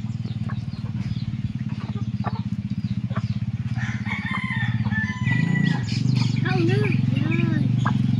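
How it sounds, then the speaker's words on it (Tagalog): A rooster crows over a constant low engine-like drone, with several rising and falling calls and some clucking from fowl in the background, fairly close and clear over the steady hum. "Ang puti manok."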